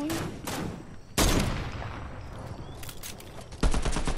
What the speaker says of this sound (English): Ethan, I'll snipe. You get an AK ready.